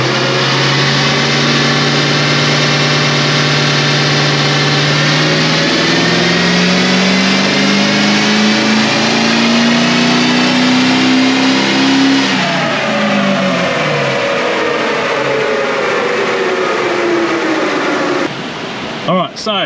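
A Toyota Landcruiser 200 Series engine revs on a dyno during a tuning run, a loud, continuous drone that rises steadily in pitch, drops back, then winds down near the end.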